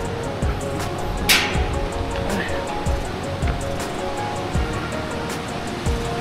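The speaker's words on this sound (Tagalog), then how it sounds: "naririnig ko na yung falls. Ang lakas ng agos." Steady, dense roar of strong rushing water from the nearby Maranum Falls, a waterfall at an outdoor nature spot, filling the whole stretch evenly, with a few faint knocks and a short louder burst early on.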